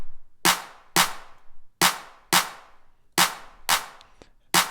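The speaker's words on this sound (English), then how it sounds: "I used trigger to add a snare to it." Processed clap-style percussion with a triggered snare layered in: seven sharp, bright hits in a loose groove, each with a short noisy tail, played alone without talk.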